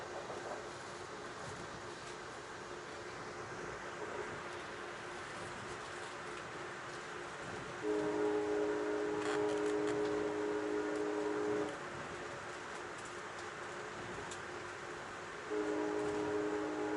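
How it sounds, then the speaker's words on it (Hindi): A train rumbles along at full speed with a steady, fairly faint rolling noise throughout. Two stretches of a sustained tonal hum or horn-like sound rise over the rumble. No voices are heard. "तो ट्रेन फुल स्पीड में चल रही है अब"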